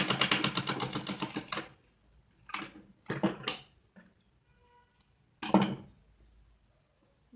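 A sewing machine stitches a one-piece dress in short runs, a close rapid mechanical whir in bursts separated by pauses, with small clicks of handling between them.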